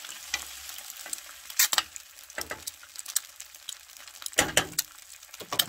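Egg being scrambled in a hot pan for cup ramen fried rice: a steady sizzle broken by scraping, clattering strokes of a utensil against the pan, close and irregular.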